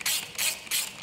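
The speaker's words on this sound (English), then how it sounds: "as I start to wind them bolts down" A hand ratchet turns bolts to compress a valve spring on a Ford Mondeo Mk4, giving three crisp, close clicking strokes in a steady rhythm.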